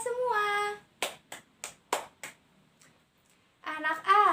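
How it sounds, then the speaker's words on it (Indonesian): Five sharp separate claps, close by in a school classroom, come between a woman's speech before and after, each crisp and evenly spaced, with a quiet gap before her talk resumes. "Mari kita tepuk tangan untuk kita semua."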